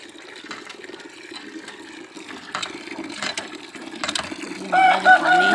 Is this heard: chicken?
yes